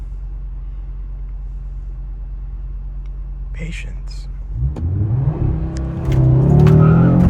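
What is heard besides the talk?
2026 Audi RS3 revving and launching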